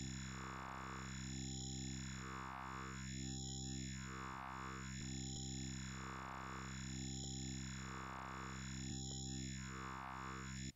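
A Serum synth wavetable tuned to match a Massive wavetable, with no gurgling artifacts: a steady, distorted sustained tone with a slow, regular sweeping modulation that repeats roughly every two seconds and plays alone.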